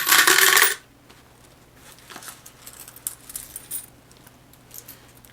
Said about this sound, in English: I will show you guys the handfuls of coins as I pull them out of my wallet